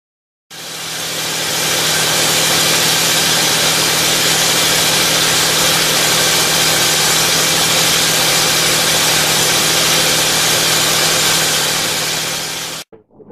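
A D-Motor LF39 aircraft engine runs at a steady, loud, close drone for over ten seconds, starting abruptly and cutting off near the end, with no talk.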